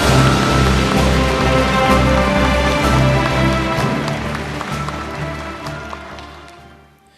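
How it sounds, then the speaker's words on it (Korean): Sustained applause from a large audience of science scholarship students honoring award winners and presenters at a presidential ceremony in Korea, steady dense clapping over a low background tone that gradually fades out toward the end. "다시 한번 큰 박수 부탁드리겠습니다"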